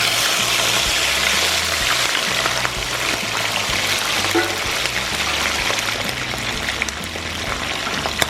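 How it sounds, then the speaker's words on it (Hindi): Snake fish frying in hot oil in a pan for a village-style masala, a steady loud broadband hiss running unbroken throughout with no talk. "तेल में हम सबसे पहले मछली फ्राई कर लेते"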